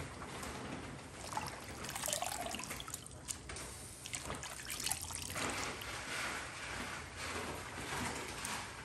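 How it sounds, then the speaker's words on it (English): Tap water runs and trickles steadily while harvested lettuce is washed, a soft splashing flow with small drips and gurgles, no talking. "So I wash them with white vinegar"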